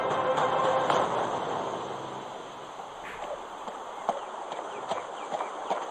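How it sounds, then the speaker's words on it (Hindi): Horse hooves clip-clop in a narrated story sound effect, a steady rhythmic patter of hoofbeats at moderate distance, fairly soft against light background ambience. "जिसे पूरा करने के लिए वल्लभार्यन अपने घोड़े तेजस के साथ निकल पड़ा।"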